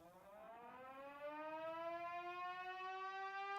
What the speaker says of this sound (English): What is this siren?